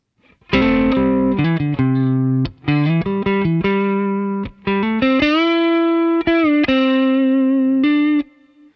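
Electric guitar plays the opening phrase of a song as a sequence of sustained, effects-coloured melodic notes with brief gaps between phrases, loud and close, with no voice over it.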